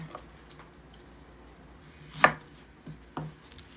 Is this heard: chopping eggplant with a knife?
yes